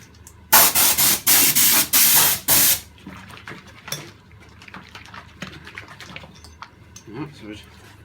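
A spray gun fires Upol Gravitex stone chip coating during a classic Mini restoration: about six loud, sharp hissing bursts in quick succession, followed by quieter handling clatter and faint movement.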